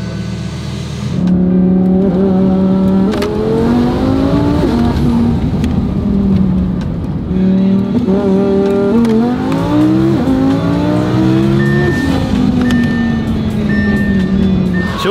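A 1500-horsepower Mustang runs on ethanol fuel and accelerates hard through repeated rising gear pulls. The engine note is loud, close and continuous, with brief dips at each shift.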